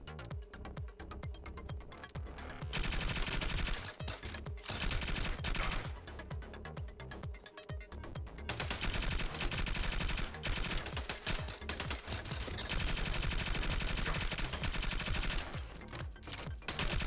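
Rapid rifle fire in the video game Cybercorp, long loud automatic bursts repeating across the stretch with brief pauses between, over a dense electronic backdrop.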